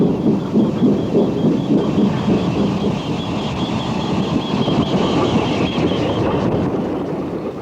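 A long pickup goods train on the Cardigan Branch railway rumbles past steadily and loudly, a dense continuous roar of wagons with faint rhythmic clatter and no voices.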